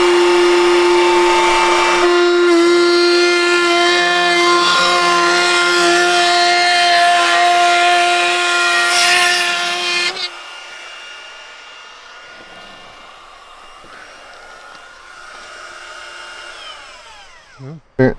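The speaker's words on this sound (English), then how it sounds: "First time I've ever cut with a router bit like this." A 1/4-inch flush trim router bit spinning and cutting wood, the router's loud high whine steady for about ten seconds, then cutting off and winding down into a fading hum with a clunk at the end.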